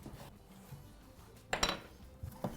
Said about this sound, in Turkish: Şimdi kabımızı da yağlayalım.